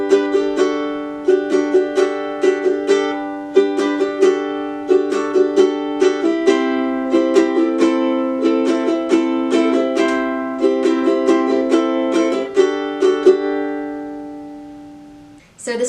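Ukulele chords strummed in a bright, steady rhythm, moving through a progression before ringing out at the end, with no voices.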